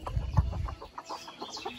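A penned rooster on a small farm gives a few short, close clucks in a quick broken series, with faint background noise and no talk.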